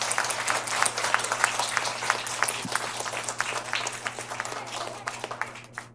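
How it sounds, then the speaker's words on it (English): An audience claps together at a book launch event, a dense, steady patter of many hands at moderate loudness that gradually thins out toward the end, over a faint constant hum. "let's give a big round of applause to all of us"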